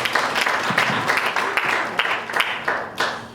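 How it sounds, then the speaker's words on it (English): Audience at a women's day conference applauds for a few seconds, a fairly close, moderately loud spatter of many hands clapping with uneven peaks. "Please give yourselves a round of applause"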